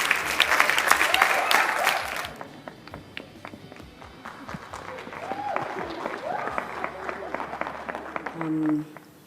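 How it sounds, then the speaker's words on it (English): Warm applause from a conference audience as a woman walks up to the stage, loud dense clapping at first that thins to scattered claps, with voices murmuring underneath. "give a warm round of applause as she walks up the stage"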